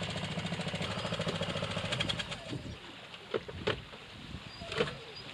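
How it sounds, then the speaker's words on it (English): A boat engine idles steadily with a rapid low throb while the boat swings at anchor in cold, stormy conditions, then fades as splashes and knocks sound nearby. "Can't kill the engine, don't need it."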